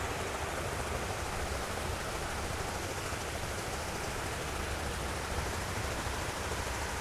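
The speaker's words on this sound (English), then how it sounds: "other than this fountain, which is making some nice water sounds for us" Water splashing steadily in an outdoor fountain on a quiet morning in Bismarck, North Dakota, a constant even hiss and patter with no talk.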